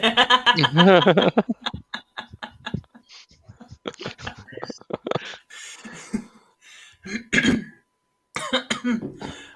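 Repeated coughing and throat clearing from an audience member during an improv show, in uneven bursts with pauses in between and some breathy sounds, fairly close.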